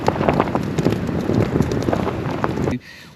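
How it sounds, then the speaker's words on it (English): Wind gusts blowing across an outdoor campsite with a Hilleberg Soulo Black Label tent, a steady rough buffeting of the microphone that cuts off abruptly near the end. "just feel the wind coming through"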